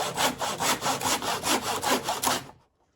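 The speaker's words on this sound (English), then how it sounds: "Now it's all set up for the child to do the sawing completely by themselves." A child working a hand saw through wood, with about ten steady, rhythmic rasping strokes close by, loud and evenly paced, ending abruptly in silence.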